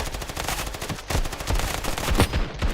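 Automatic gunfire in the mobile shooter game Standoff 2, a loud, dense stream of rapid shots running continuously with no pauses or talk.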